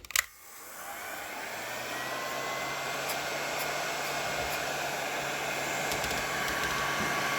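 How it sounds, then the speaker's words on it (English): A heat gun starts with a click and runs as a steady close airy roar while warming a homemade plastic tailshaft seal driver, with a few faint clicks and no talk. "So I'm going to take the heat gun, heat this up a little bit, try to soften it up"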